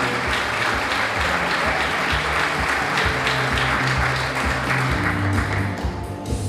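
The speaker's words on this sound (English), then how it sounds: "I ask that you give a great big warm applause to all of our 3 semi-finalists" Loud, dense audience applause for three teacher semi-finalists at the Wicomico Teacher of the Year celebration, continuous crowd clapping that tapers slightly in the final second.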